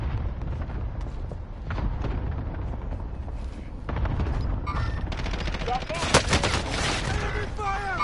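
Dense video-game gunfire in a battle-royale match: bursts of automatic fire and explosions over a loud, continuous combat din, with game voice callouts mixed in.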